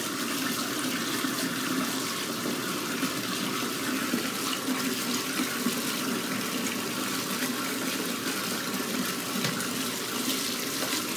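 Water running from a tap into a bathtub, a steady, dense rushing that stays even and close throughout with no talk.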